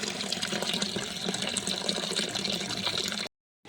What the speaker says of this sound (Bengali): এখানে ফার্স্টে আমটাকে ধুয়ে নিয়েছি